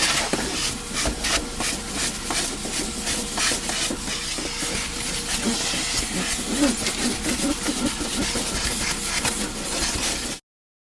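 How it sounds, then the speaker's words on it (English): A steady, loud whooshing vacuum cleaner hum on car carpet runs nonstop for about ten seconds with rough rattling, then cuts off abruptly. "vacuum the carpet."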